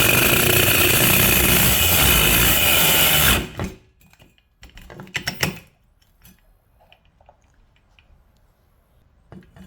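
An angle grinder cuts through a wooden plank in a home garage, giving a loud, steady, dense grinding roar for about three and a half seconds before it cuts off. Faint clatter and handling noises follow in near silence.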